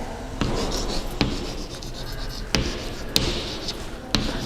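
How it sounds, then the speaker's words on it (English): Pen or chalk writing a number on a surface during a first-grade maths lesson, scratchy strokes with several sharp taps as it lands, close and fairly loud with no talk. "You have to write the number."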